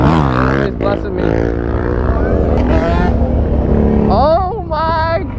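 A Harley-Davidson Dyna 1400 motorcycle engine rumbles loud and close, with a throttle rise and fall partway through, while people talk and shout over it.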